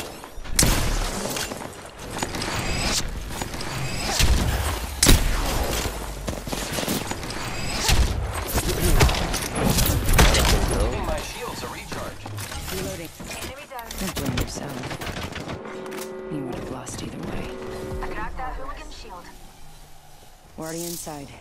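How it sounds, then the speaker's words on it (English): Rapid bursts of gunfire in a shooter video game, with dense automatic fire and sharp shot cracks for most of the stretch, then thinning out. A player talks over the shooting. "Opening fire."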